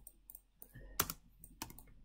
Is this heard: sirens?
no